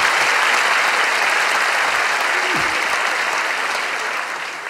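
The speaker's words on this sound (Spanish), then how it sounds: "un fuerte aplauso para ella" Sustained applause from a crowd, dense and steady clapping that fades slightly toward the end.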